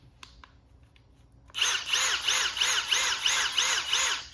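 A Milwaukee Gen 4 drill whirs up instantly when its trigger is squeezed, then runs loud and close with a pulsing motor whine after a few quiet clicks.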